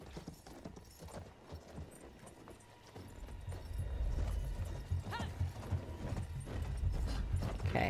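Horse hooves clip-clopping in the video game Battlefield 1, a faint walking rhythm that grows into a louder, quicker run with a brief whinny, no talk.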